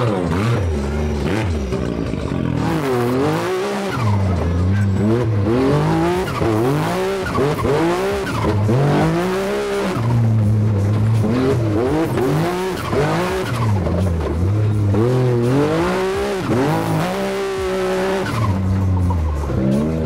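A 400 hp buggy engine revs hard in repeated rising and falling bursts while the tires squeal, loud and close throughout with no talking.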